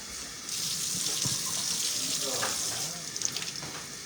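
Hot water runs steadily from a tap with a bright, hissing splash, briefly quieter near the end before the flow resumes.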